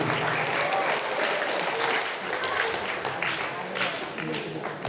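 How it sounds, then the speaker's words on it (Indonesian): A congregation at a Maulid Nabi religious lecture gives sustained applause, a dense even wash of many hands clapping, steady and moderately loud with some voices mixed in. "Beri tepuk tangan sekali lagi untuk saudara saya."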